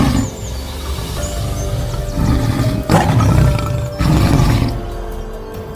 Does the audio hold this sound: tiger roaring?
yes